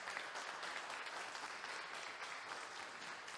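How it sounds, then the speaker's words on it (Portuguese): Faint, continuous applause from a church congregation at the close of a service, an even wash of many hands clapping heard from a distance. "aplauda o Senhor bem forte"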